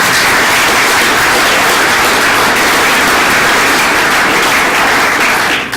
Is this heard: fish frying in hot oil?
no